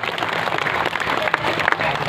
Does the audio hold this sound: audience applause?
yes